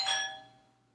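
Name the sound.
doorbell ringing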